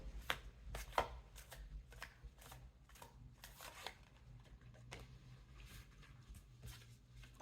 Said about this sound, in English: Let's see what these cards say.